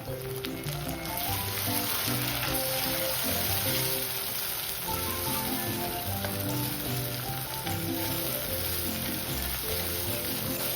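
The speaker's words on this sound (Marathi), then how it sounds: "आता यामध्ये मी जो टॅमॅटो आहे तो घालून देणार आहे" Matki masala sizzles and fries steadily in a pan as tomato goes in, a dense, close crackle with a faint stirring texture running throughout and no voices.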